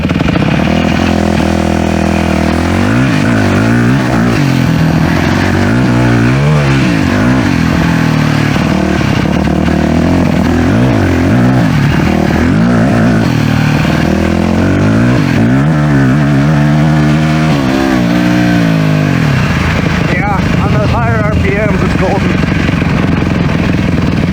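A freshly repaired motorcycle engine revs loud and close, rising and falling in repeated swells over a continuous roar, with wind noise and a rider speaking over it at points.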